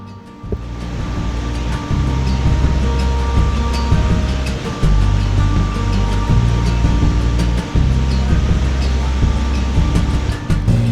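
Frigid glacial river water rushes beneath a bridge in the Canadian Rockies, a loud, continuous roar with heavy low rumble and a few brief dips, heard alone.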